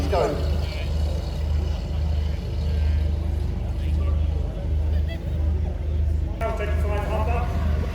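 A veteran Marlborough car pulls away at a hill climb event, its low engine rumble steady and loud throughout amid crowd chatter and nearby voices, with a brief clatter near the end.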